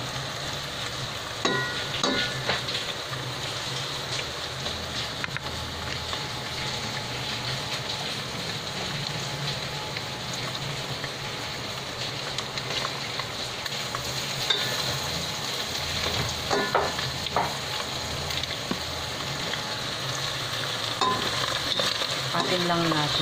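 Mushrooms stir-fry in a pan for a cheesy carbonara, a continuous loud sizzle with intermittent scraping strokes of the stirring utensil throughout.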